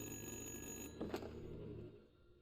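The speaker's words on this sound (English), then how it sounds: "Answer the goddamn phone!" A telephone rings in the horror video game Little Hope, an electronic bell tone heard quietly once before cutting off and giving way to a soft low ambience.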